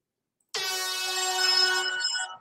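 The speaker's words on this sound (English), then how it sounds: "You have to earn the air horn." A single loud air horn blast, a bright brassy tone held for about two seconds before cutting off.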